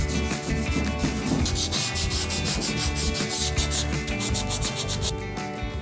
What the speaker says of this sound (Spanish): Momento ahora para gastar, para decapar, para lijar.